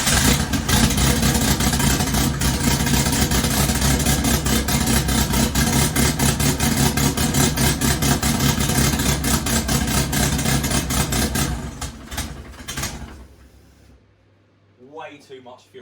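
A Ford Fiesta MK1 engine being tuned on a build runs loud and rough just after starting, a dense rumbling idle that holds steady, then dies away near the end, followed by a brief voice speaking.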